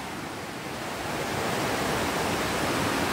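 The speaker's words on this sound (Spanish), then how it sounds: "quería que escucharan cómo se escucha el río" A river rushes on a calm morning after a storm, with a steady, loud, broadband roar of flowing water that holds constant throughout and has no voices over it.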